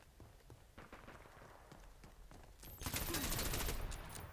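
Gunfire in the video game Dirty Bomb, scattered faint shots that build into a loud, dense fusillade in the second half.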